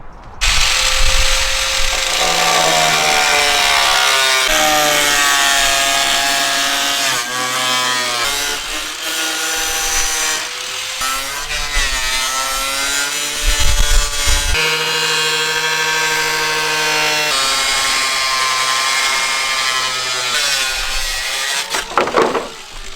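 A power tool cuts a license plate opening into an aftermarket body kit panel on a Nissan 350Z. It makes a loud, sustained grinding and buzzing whine whose pitch rises and falls as the tool bites, with short pauses.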